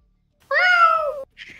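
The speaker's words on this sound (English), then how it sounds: "Give me a little meow, bro." A cat lets out one loud, clear meow up close, drawn out for under a second, followed by a brief faint sound after it.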